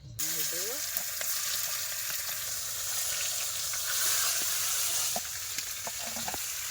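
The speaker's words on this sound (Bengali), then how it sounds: "কড়াইতে কিন্তু আর একটু তেল দেওয়া হচ্ছে আর রিফাইন তেলে কিন্তু রান্না হচ্ছে" Food cooking in refined oil in a wok, a dense hissing sizzle filling the whole stretch, steady and close, with a few light utensil taps and a brief voice at the start.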